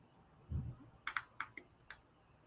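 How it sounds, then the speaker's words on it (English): A short burst of keyboard typing while entering a salon's name during an airbrush makeup session: five or six separate clicks, close and fairly crisp, following a low thump, with no talking. "I'm going to type it in real quick"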